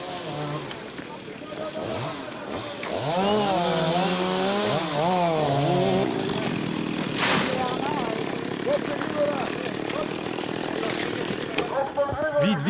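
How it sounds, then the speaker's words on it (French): Chainsaws cutting trees close to houses during a wildfire, a buzzing, revving engine drone running continuously and fairly loud, mixed with voices talking and shouting over it. "Et aussi des tronçonneuses"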